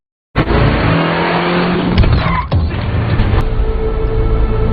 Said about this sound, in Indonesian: Rustom ditabrak oleh Freddy dengan mobil yang dikendarainya